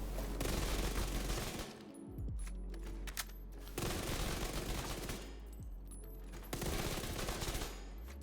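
Rapid automatic gunfire in The Division 2 shooter game, loud bursts of fire aimed at a target, two long volleys separated by a short pause, with no speech.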